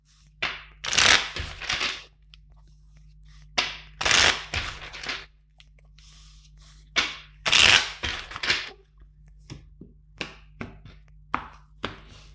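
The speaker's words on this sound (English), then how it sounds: "let's shuffle five times" Tarot cards are shuffled in several separate bursts of crisp riffling and slapping, close and distinct, with quieter taps and pauses between the bursts.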